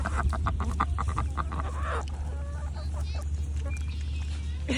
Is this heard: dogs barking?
no